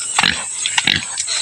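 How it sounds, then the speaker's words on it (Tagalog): A domestic pig grunts in short, close, rough bursts, three or four snorty calls spaced about half a second apart over steady background noise. "ayun yung baboy ko, dalawa"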